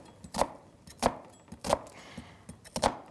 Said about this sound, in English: Okay, so we'll start dicing.